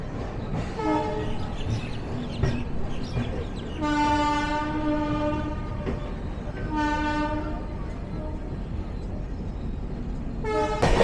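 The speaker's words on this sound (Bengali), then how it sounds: "এই বিশাখাপত্তনমে 3 নম্বর প্ল্যাটফর্ম ছেড়ে বেরোচ্ছে আমাদের ট্রেন" Gurudev Express pulling out of platform 3 at Visakhapatnam, its horn sounding in several long blasts over steady rolling train rumble, with a shorter toot near the end.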